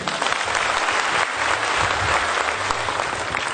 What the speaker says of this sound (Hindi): तो एक शानदार ताली